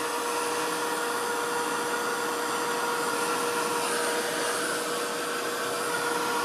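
A heat tool blows hot air to dry heat embossing on small botanical doodled art cards, giving a steady, even whirring hiss with a fixed tone that runs unbroken throughout, close and alone.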